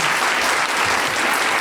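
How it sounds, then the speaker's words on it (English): A loud, dense round of applause for a panel on progressive prosecution, many hands clapping continuously and close. "How about a round of applause for our panel?"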